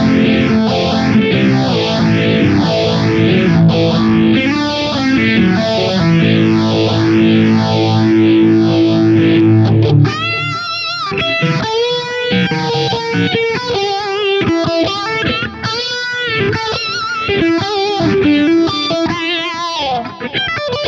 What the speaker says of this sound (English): In here I have a flanger as well.